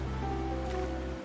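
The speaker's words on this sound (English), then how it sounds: "But today's rain feels different." Steady rain in the Wuthering Waves game falls as a soft, continuous wash of broadband hiss over a low hum, even and unbroken for a brief moment with no voices.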